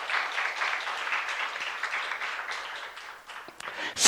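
Church youth congregation clapping hands together during a Korean sermon, a dense, steady wash of many hands applauding at once, fairly close and continuous with no voices over it.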